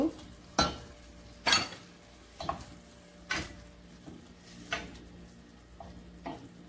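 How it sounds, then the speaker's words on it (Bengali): Boiled eggs being fried and stirred in spiced masala in a pan for egg biryani, with a spatula scraping about every second in steady strokes over a low background sizzle. "এটা আমি কষিয়ে নেব ভালো করে মশলার সঙ্গে"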